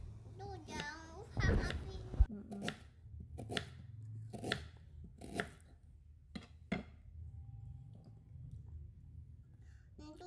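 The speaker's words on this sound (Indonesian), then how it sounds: "Dan ini saya mau potong bonggol nanasnya karena akan di blender." A knife chops through a pineapple core, a series of sharp, distinct cuts at irregular intervals, close and moderately loud, with a voice briefly audible near the start.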